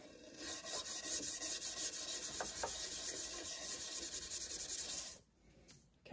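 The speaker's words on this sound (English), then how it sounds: "let's try my faithful stainless steel scrubby thing" Steady, close scrubbing with a stainless steel scrubber, a rhythmic abrasive rasping that runs for about five seconds before easing off, with no talking.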